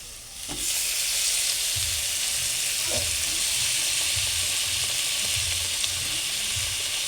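Eggplant and potato pieces hitting a hot oiled pan and frying, a sudden loud hiss rising into a steady sizzle with soft intermittent stirring scrapes, close and continuous with no talking.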